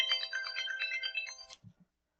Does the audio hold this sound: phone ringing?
yes